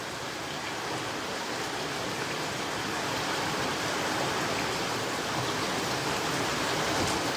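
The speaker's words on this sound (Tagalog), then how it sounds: "ang lakas ng ulan dito guys" Heavy rain pouring steadily in Singapore, a dense, constant hiss of downpour with no break, close and loud.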